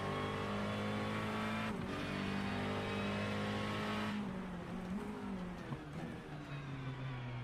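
GT3 race cars cornering at the Navarra circuit, their engines roaring loudly and continuously with pitch shifts as they brake and accelerate through the turns, sustained and close throughout.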